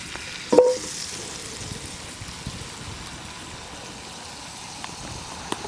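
Butter sizzling in a hot pan at a camp oven outdoors, a soft steady crackling hiss beneath a brief clunk near the start, faint and continuous throughout.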